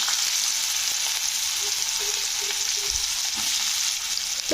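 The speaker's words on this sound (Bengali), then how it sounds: "পেঁয়াজগুলো আমি দিয়ে দিলাম তো পেঁয়াজটাকে কিন্তু একটু ভাজা ভাজা করে নিতে হবে" Sliced onions sizzle steadily in hot oil in a wok for a South Indian-style eggplant bharta, a constant close, loud frying hiss with no talking.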